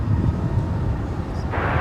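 Qantas Boeing 787 Dreamliner airliner on landing approach at Dallas-Fort Worth International Airport, a steady low engine roar heard from a distance, with a brief hiss near the end.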